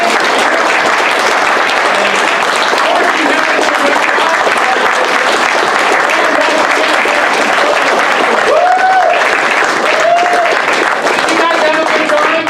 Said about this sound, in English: Let's give Tommy a nice round of applause.